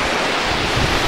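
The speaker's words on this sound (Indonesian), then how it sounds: "Ini ombaknya teman-teman. Datang dia ombaknya." Storm-driven ocean waves crash at Air Manis beach near the Malin Kundang stone, a dense, roaring wash of surf with wind buffeting the microphone, steady and loud throughout.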